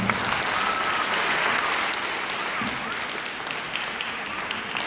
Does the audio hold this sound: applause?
yes